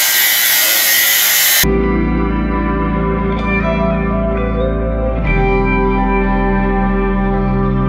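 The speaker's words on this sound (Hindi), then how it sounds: "इनको ये टुकड़े काटने छः छः इंची छोटे करने हैं" Power saw cutting pieces of an old window frame six inches shorter: a loud, sustained tonal whine with ringing harmonics and echo, steady throughout after a brief burst of broadband noise at the start.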